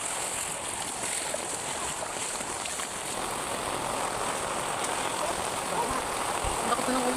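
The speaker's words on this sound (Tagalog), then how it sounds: "Bakit pa ng ulan?" Steady rain from Typhoon Carina patters on a surface in flooded Cainta, Rizal, a constant broadband hiss with no pauses throughout.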